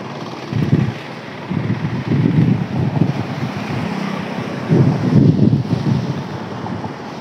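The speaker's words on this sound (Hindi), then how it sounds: "ये पानी का बहाव बहुत ज़्यादा तेज़ है" The fast-flowing Tawi river surges in flood in a continuous, loud, rushing roar with swelling pulses of water and wind noise, and no voices.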